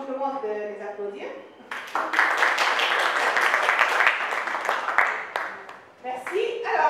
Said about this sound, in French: Je vous demande de les applaudir.